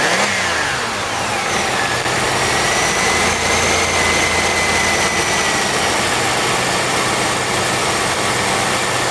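A 3.8 liter car engine idles steadily nearby, a continuous low rumble that holds even throughout with a faint high whine riding over it.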